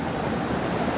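Recirculating water flows through the Splash Mountain log flume ride, a steady rushing wash of noise, dense and continuous, with no voices.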